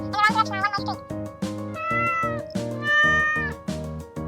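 A small kitten, trapped in thorny plants, meows repeatedly in high, wavering cries over a steady rhythmic background music track, continuous and fairly close throughout.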